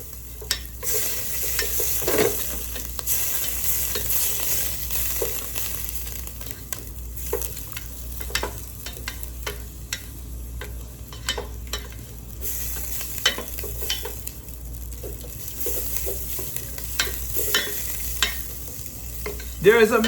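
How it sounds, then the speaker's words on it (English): Garlic and butter melting together in a pan, a steady close sizzle and frying hiss with scattered stirring scrapes and clicks from a utensil throughout, no talking. "And I'm making my garlic and my butter melt together."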